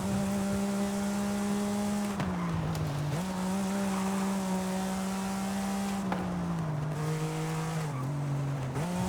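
Porsche 911 in Forza Horizon 5, heard from inside the car: a loud, steady engine drone that holds high revs, dips briefly on shifts and climbs again, with no talking.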